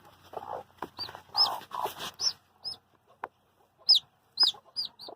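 Hens cluck in a farm pen, giving repeated short squawks and clucks close by in uneven bursts, with some rustling in between.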